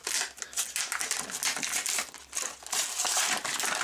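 A Ghostbusters slime packet with a Stay Puft Marshmallow Man figure is pulled from its cardboard blister card, producing loud, continuous crinkling and tearing of plastic and card at close range without pause.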